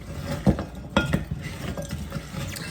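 Goat milk soap mixture with frozen milk cubes being stirred in a pot, giving soft scraping and clinking sounds with a few sharper knocks, close and fairly quiet, with no talking.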